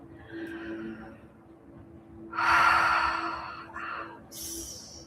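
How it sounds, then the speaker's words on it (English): Slow, deep breaths in and out while closing a yoga relaxation session, each one a soft, airy rush of moderate loudness, with a quieter breath near the start and two fuller ones near the end. "Let's take 3 deep breaths in and out to close."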